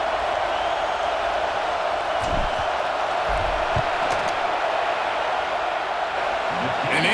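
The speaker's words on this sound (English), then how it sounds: "This crowd trying to do its part to get inside the kicker's head." A stadium crowd at a football game roars steadily through a field goal attempt, a dense, sustained wash of noise from a large audience with no pauses.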